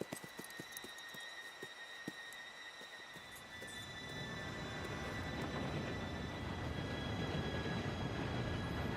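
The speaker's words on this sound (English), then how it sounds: "Train should be here any minute now." A steam train in Red Dead Redemption 2 approaching, its rumble and rail noise swelling steadily to a loud, dense roar with metallic squealing tones on top, no talking.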